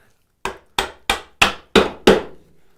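Six sharp chisel strikes chopping a mortise in wood for a window mortise and tenon joint, evenly spaced and growing louder, each a crisp thwack with a short decay, alone with no talk.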